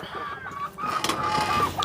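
A neighbour's chicken in a Jaffna backyard clucking in short repeated calls, moderately near, over quiet outdoor background noise.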